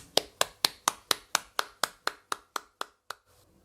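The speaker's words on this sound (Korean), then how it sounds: "우리 사랑의 하나님께 감사의 박수 영광 돌립니다." A church congregation applauds in a Sunday worship service, about a dozen sharp, evenly spaced claps sounding together and gradually fading, with no talking.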